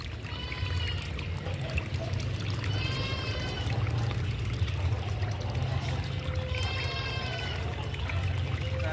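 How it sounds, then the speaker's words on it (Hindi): Water trickles and splashes steadily as it is poured onto plants at a home bird-keeping setup. Repeated high animal calls cut in at intervals over the continuous pour. "डाल रहे हैं हमारे पौधों को पानी।"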